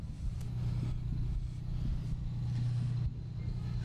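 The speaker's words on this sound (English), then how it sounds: "Up next is the Emporia Fire Department and the Chief Lang pumper truck." A fire department pumper truck rolls past in a Veterans Day parade in Emporia, its engine giving a steady low rumble with a sustained hum, fairly close and with no talk.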